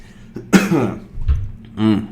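A few harsh, nearby coughs in quick succession, rough and throaty, with brief quiet gaps between them.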